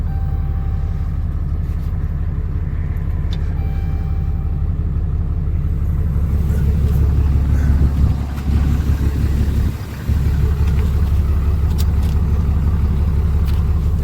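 A car's engine runs steadily at idle after being started, a loud, continuous low rumble with a brief dip near the end, close by and with no talking.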